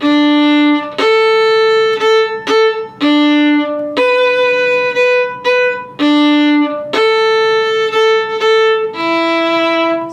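Solo fiddle playing rehearsal mark 2 of the Kerfunken Set in a rehearsal, loud, close bowed notes in short phrases with brief gaps between them, alone with no talking.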